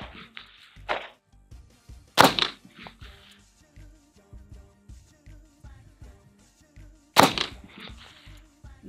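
Two loud, sharp gunshots from a double-stack 1911 pistol at a shooting range, spaced several seconds apart, each with a brief echoing tail, over quiet background noise.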